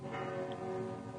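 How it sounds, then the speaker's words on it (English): Church bells peal together in the town of Holyhaven, several bells at once sounding as a steady sustained ring with layered tones, carrying evenly at moderate level with no voices. "Do you mind telling us what those bells are?"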